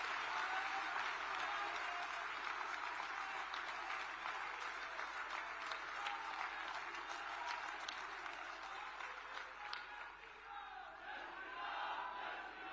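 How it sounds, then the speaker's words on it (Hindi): A large audience at a political gathering applauds steadily to welcome a speaker, a loud, dense wash of clapping that continues throughout and softens slightly near the end. "तालियों की गड़गड़ाहट के साथ उनका स्वागत करता हूं,"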